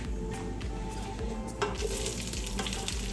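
Onions sizzle and fry steadily in hot oil with garam masala while being stirred for a chicken biryani, a dense continuous crackle up close with a few soft stirring scrapes.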